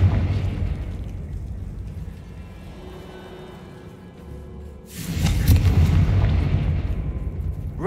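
Confringo fire spell detonating in Hogwarts Legacy: a loud, full-bodied explosive burst erupts partway through, following a quieter stretch of rumbling ambience, then decays into a sustained roar.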